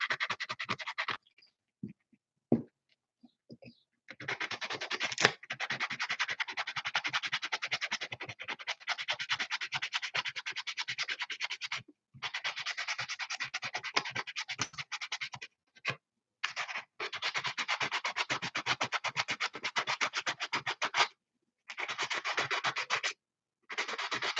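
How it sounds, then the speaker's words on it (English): Sandpaper scrapes back and forth by hand in quick, rhythmic strokes, broken by short pauses, close by and fairly quiet, smoothing a model Freightliner FLD120 flattop truck. "that's what I like about doing the hand sanding at this stage"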